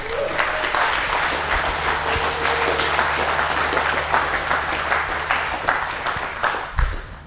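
Audience applause fills a tech conference talk on USB tinkering for hackers and makers, steady dense clapping for several seconds with a low hum underneath and a brief bump near the end.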